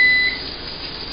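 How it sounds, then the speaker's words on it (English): A kitchen oven finishing its preheat gives off a loud, steady electronic beep that holds one tone, dropping slightly in level partway through, with no talking. "The very loud beep means my oven is preheated."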